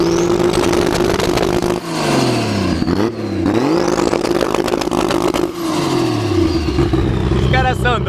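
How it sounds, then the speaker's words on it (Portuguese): Loud race car engine revving hard with a rough exhaust pipe exiting upward through the hood, pitch rising and falling through several throttle blips at close range, with people talking over it. "Olha o escape desse carro."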